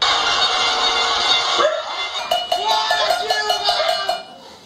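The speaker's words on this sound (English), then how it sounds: "People were banging their pots, honking their horns." Metal pots banged at a street protest, rapid ringing clangs over a dense crowd roar, loud and busy from street level.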